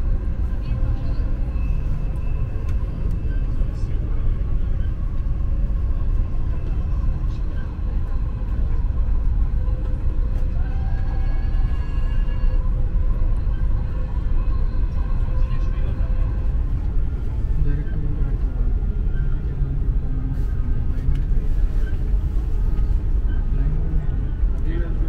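Dubai Metro train running steadily, a continuous low rumble and rolling hum with faint tonal whine, while an automated station announcement speaks over it.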